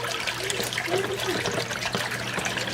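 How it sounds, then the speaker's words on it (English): An aquarium water pump circulates water in a tank being set up to cure dry rock, giving a steady close trickling, splashing wash of water and bubbles with no pauses. "I'm gonna plug my pump in so it moves the water around, creates bubbles."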